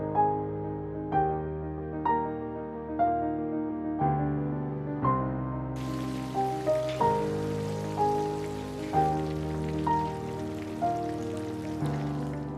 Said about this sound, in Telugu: ఒక్కొక్క పీస్ ని నెమ్మదిగా ఫ్రై చేసుకొని